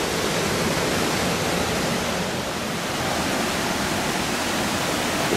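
Clear mountain stream water rushing near Glen Ellis Falls in the White Mountains, a loud, dense, unbroken roar of flowing water with no voices.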